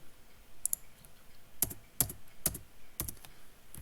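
Keys on a computer keyboard clack in a few sparse, crisp bursts, fairly faint and close, with quiet gaps between strokes and no voices.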